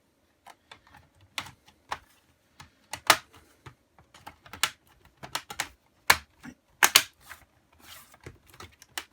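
Plastic lid of a Toshiba C650 laptop being pressed back onto the chassis, a string of sharp, close clicks and snaps at irregular intervals with quiet gaps between them.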